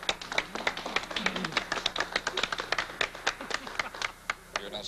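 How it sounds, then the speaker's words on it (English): Grand Ole Opry audience applauding during a 1966 radio broadcast: dense, rapid hand claps from a live crowd, steady through the stretch with sharp individual claps standing out, fairly close and moderately loud. "You're not supposed to applaud."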